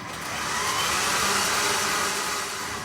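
An electric mixer beats peanut butter cookie dough for peanut butter cup cookie blossoms, giving a steady, loud whirring drone that holds evenly for the whole stretch with no talking over it.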